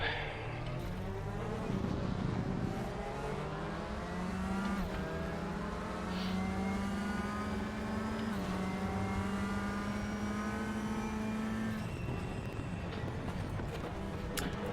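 A race car engine on a warm-up lap in RaceRoom's WTCR 2018 content, droning steadily and climbing through the revs in long pulls with gear changes, continuous and fairly close.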